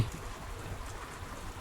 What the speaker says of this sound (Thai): ตอนนี้เพื่อนๆได้ยินเสียงฝนหนักมากเลยนะ ฝนตกหนักมากเลยนะครับ